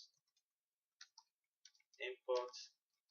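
Sparse, faint clicks from a computer keyboard come in small bursts as code is typed, with a voice murmuring briefly between them in a quiet room.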